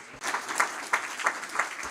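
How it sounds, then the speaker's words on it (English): Audience applauding panelists at a regional-fund briefing session, a dense, steady patter of many hands clapping at close range, with no talk. "A big round of applause for them."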